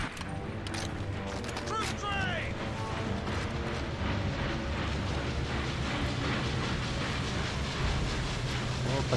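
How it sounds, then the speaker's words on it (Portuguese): A train arriving in Medal of Honor: European Assault on PS2, a dense, loud rumbling rail roar with metallic squeals, continuous throughout and mixed with game sounds. "Chegou o trem aí, um trem de chucrute aí."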